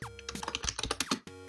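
Fingers type a terminal command on a Mac computer keyboard, a quick close run of about a dozen crisp key clicks finished by a firmer final press, with no talk.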